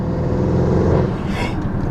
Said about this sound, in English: Backfire is different. Even the way the turbo sound is different.